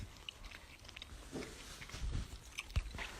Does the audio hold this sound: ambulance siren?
no